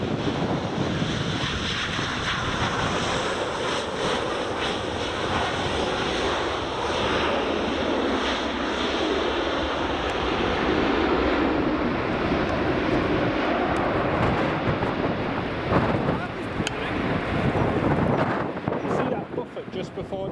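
An aircraft landing on runway 24 at Edinburgh Airport gives off a broad, rushing engine roar that swells gradually, mixed with wind buffeting the microphone and a voice talking over it.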